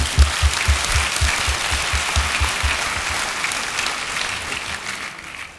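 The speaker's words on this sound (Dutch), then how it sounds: "Dames en heren, applaus." A conference audience in a lecture hall at a Dutch digital business event gives dense applause. It is strong at the start with some low thumps, then slowly fades toward the end.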